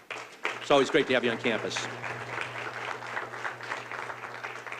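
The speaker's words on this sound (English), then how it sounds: "And a big round of applause again for Mayor Walsh." An audience applauds the mayor at a university residence hall grand opening, with clapping spread beneath someone speaking close to the microphone. The applause carries on steadily under his voice throughout.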